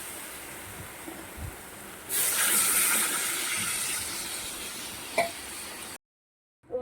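Water poured into a hot pan of jute greens bursts into a loud, steady steam hiss that lasts several seconds and then fades, heard close with no talking.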